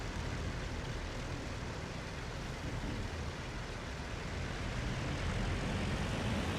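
Aircraft engines drone in flight in the IL-2 Battle of Kuban combat flight sim, a loud, steady, broadband roar that holds unbroken throughout, swelling slightly toward the end, with no voices.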